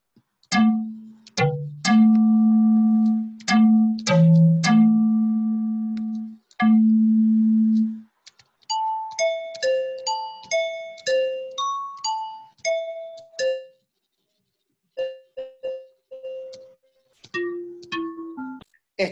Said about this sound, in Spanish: un sonido como por ejemplo el caso de una especie de campana